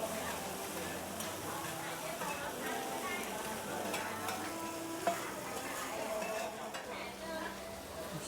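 Oyster omelet (hoi tat) frying at a riverside market stall in Thailand, with a steady sizzle and stirring, occasional clinks of pans, and market chatter and voices around it.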